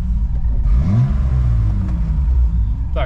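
A car engine rumbles loud and close, rising briefly in a quick rev before settling back into a steady, deep idle.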